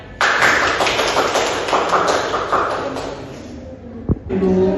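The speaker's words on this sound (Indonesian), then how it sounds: "Coba teman-teman yang lain berikan aplaus" Classmates in a classroom applaud together for several seconds, a dense burst of claps that starts abruptly, swells and then thins out, with a sharp knock near the end and room noise after.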